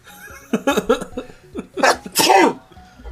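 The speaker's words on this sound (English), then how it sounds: "That sneezed." A single loud sneeze up close, followed by brief laughter and breathy sounds.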